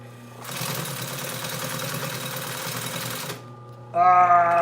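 A sewing machine runs steadily for about three seconds while stitching a yacht cushion, a fast even mechanical whir at moderate loudness, then stops, and a brief louder tonal sound follows.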